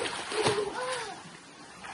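People swimming in a swimming pool make soft, continuous splashing and sloshing, with a brief mid-range voice rising over the water noise.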